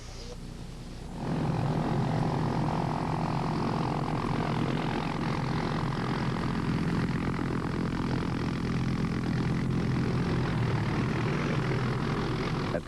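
A Hughes 500 medical evacuation helicopter arrives through early morning mist, its steady rotor and engine drone swelling in after a quieter second and holding loud and constant, with a voice speaking faintly under it.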